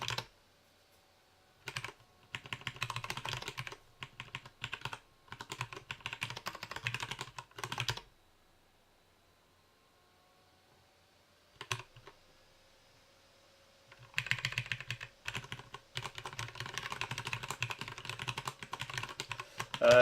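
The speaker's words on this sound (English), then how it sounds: "I'm also doing this, if you can see that, on a split Ergodox keyboard" Typing on a split Ergodox keyboard: close, crisp key clicks come in bursts of rapid strokes, separated by quiet pauses, and there is no talk.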